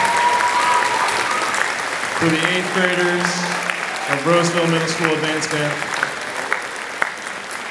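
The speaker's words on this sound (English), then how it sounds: "How about a round of applause" A school concert audience applauds the eighth-grade Advance Band at Roseville Middle School. Loud clapping fills the opening, a speaker briefly talks over it, and the applause continues to the end.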